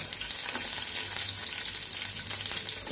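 Green chillies fry in a spoonful of hot oil, giving a constant crackling sizzle with light stirring, close and fairly quiet.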